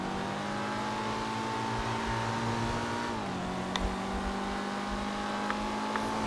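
A supercar engine in the GTA 5 video game hums steadily at moderate level while driving, its pitch dipping slightly midway, with a few faint clicks and no talk.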